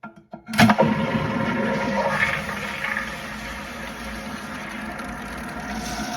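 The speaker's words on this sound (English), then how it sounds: "let's give it another flush to see what's going on" A Flushmate pressure-assist toilet releases with a sudden loud whoosh, then a forceful rushing of water that gradually settles into a steady refilling hiss, close by with no talking.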